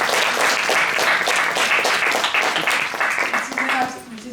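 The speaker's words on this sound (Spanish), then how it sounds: "un aplauso para nuestro técnico." An audience at a lecture applauds the technician with sustained, fairly close clapping that tapers slightly toward the end, as voices talk faintly underneath.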